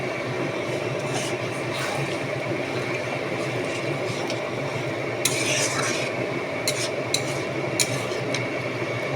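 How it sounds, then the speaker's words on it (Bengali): Boiled chickpeas are stirred into cooked potatoes in a pan, a dense continuous sizzle with scraping utensil strokes and a few sharper clinks near the end. "এবার আমি যে চানাটা সিদ্ধ করে রেখেছি সেটা দিয়ে দেবো।"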